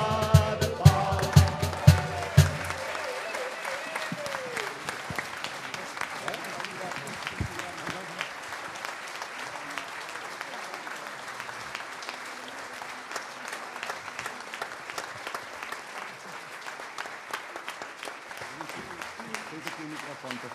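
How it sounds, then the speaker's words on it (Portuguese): An audience at a Portuguese tribute concert breaks into prolonged applause after a sung line, the clapping swelling and holding steady for many seconds after the music stops, with a few voices underneath. "uma salva de palmas"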